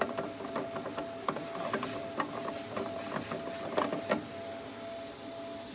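Plastic waste ink bottle on the wiper of a UJF6042 MKII UV printer being unscrewed by hand, giving a run of small close clicks and ratcheting scrapes over a faint steady machine hum.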